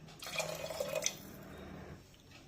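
About one and a half cups of plain water splash briefly into measured rice in a pot for coconut rice, a short close liquid pour that trails off into quiet.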